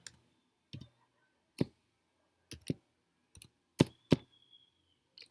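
Keys clatter quietly on a computer keyboard while HTML list items are typed, in sparse, irregular clicks and short pairs of taps separated by silence, close and faint.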